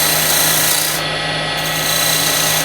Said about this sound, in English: so I'll use a narrow parting tool just to deepen this groove a little bit